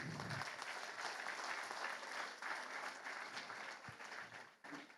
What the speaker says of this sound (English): I would urge you to give a clap at this stage.